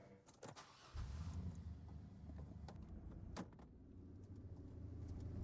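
A car in a TV drama is started, its engine settling into a low, steady idle after a few door and interior clicks, quiet and close with no voices.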